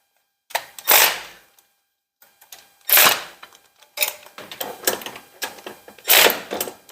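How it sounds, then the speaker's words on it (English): Several bursts of clicking, rasping mechanical noise from a hand ratchet tightening bolts on a 1957 car, heard up close in uneven spurts with short silent gaps between them. "we'll go back over it with the hand ratchet"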